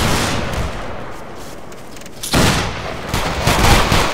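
Musket volleys fire in the line-battle game Battlegrounds 3: a dense crackle of distant shots gives way to a sudden louder volley, followed by scattered, overlapping reports.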